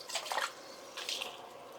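Water pouring briefly from a tap into a metal can, two short faint splashing bursts in a quiet kitchen, no voices.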